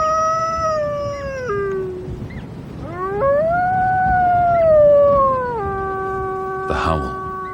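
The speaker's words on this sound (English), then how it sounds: "The howl." A wild female wolf howls in long, sustained tones that rise and fall over several seconds, fairly near and clear above steady outdoor background noise.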